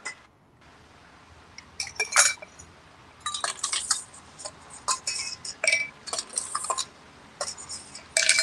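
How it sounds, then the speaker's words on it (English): A cocktail with Angostura and chocolate bitters stirred in a glass, giving a close run of light clinking and tinkling ice-and-glass taps, some in quick clusters, with no talking. "And then we give it a stir."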